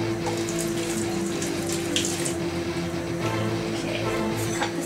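Tap water runs steadily into a sink while red chilies are rinsed, a continuous close splashing rush with a faint hum underneath and no talking.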